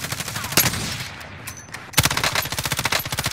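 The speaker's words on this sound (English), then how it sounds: "Oh, I'm getting shot at." Rapid automatic gunfire in the Call of Duty Warzone video game, a sharp shot near the start, a brief lull, then a fast rhythmic burst of rounds through the final second and a half.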